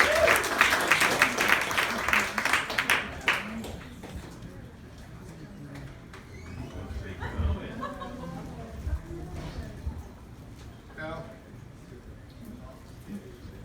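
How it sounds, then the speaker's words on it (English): A burst of applause and clapping from a wedding reception crowd at the start, fading out as voices and murmured chatter carry on. "give him a round of applause"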